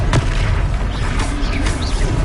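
A Confringo spell explosion in Hogwarts Legacy lands as a booming blast with a short sharp burst near the start, followed by a loud rumbling spell-combat din that carries on throughout.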